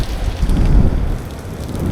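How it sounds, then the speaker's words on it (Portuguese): Steady rain pours down outdoors on the Alagoas coast near Maragogi, Brazil, a dense continuous hiss with a low rumble underneath, heard alone and fairly loud. "Tá chovendo, o Alex quer sair na chuva"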